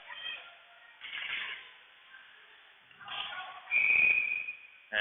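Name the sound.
referee whistle at an ice hockey game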